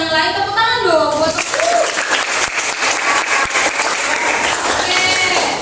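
A class of students applauds their classmates, clapping together loudly and steadily, with a voice speaking briefly over the first second before the clapping takes over.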